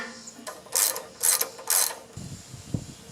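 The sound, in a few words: pulling the spark plug out of a small engine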